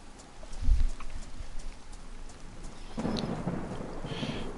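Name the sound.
thunder from lightning in video game DayZ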